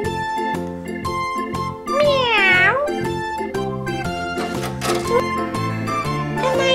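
A cat meows repeatedly, several drawn-out, rising and falling cries close by, some sliding in pitch, with a faint jingle and occasional background sound between calls.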